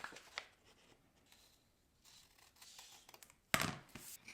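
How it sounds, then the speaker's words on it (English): Scissors snip around a piece of Christmas-themed paper decorated with ornaments while a star fold card is made. Soft, faint snips sit over quiet background, ending with one louder, crisp cut. "Going to bring in my scissors and just cut around it"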